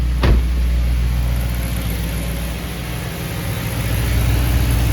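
A BMW E92 M3 engine idles steadily with its accessory belts spinning, a smooth, even hum close by with a brief sharp click near the start.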